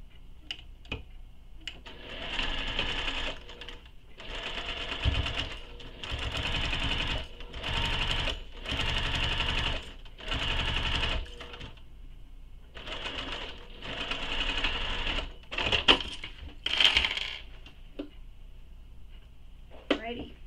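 A sewing machine stitches along the edge of a sling pack, running in a series of short, loud bursts separated by brief pauses, with the rhythm stopping and starting about a dozen times.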